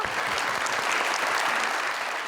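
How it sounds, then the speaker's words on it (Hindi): Studio audience at a television talk show breaks into dense, continuous clapping for the winner of an organic beauty products game segment, loud and steady for the whole stretch, with no talk over it. "इनके लिए बहुत सारी तालियां।"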